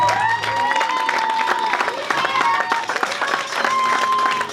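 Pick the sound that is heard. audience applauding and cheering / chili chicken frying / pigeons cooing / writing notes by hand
audience applauding and cheering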